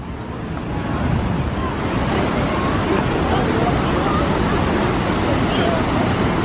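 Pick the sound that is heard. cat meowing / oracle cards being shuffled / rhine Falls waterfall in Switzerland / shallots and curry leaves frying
rhine Falls waterfall in Switzerland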